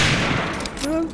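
A short, dense burst of rapid gunfire in the video game Medal of Honor: Allied Assault Spearhead rattles loudly, with a brief voice-like tone near the end.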